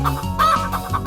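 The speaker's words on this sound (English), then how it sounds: "The chicken balking's a lot." Chicken clucking from the video game Chickozilla, a short run of several loud, close clucks in quick irregular succession, heard alone.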